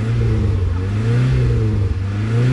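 A Toyota AE86 engine with an HKS exhaust, running cold, holds a loud, steady low drone with a slight rise in pitch and no break.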